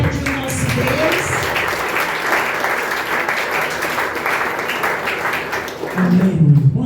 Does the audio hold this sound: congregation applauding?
yes